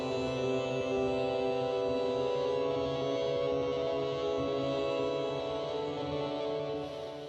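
A soft, sustained ambient guitar chord progression from Spitfire Audio's Ambient Guitars, washy and smooth, with long ringing tones blending slowly into one another.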